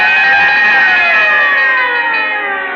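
A fire siren in a Texaco Fire Chief Gasoline radio program, heard as a loud, steady wail sliding slowly downward in pitch, alone and close throughout.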